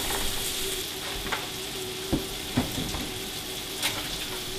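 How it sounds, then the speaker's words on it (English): King scallops and leeks cooking together in a hot pan, giving a steady low sizzle broken by a few soft clinks and scrapes of a utensil, with no talking. "The fish doesn't take long to cook, we just want the leeks to wilt"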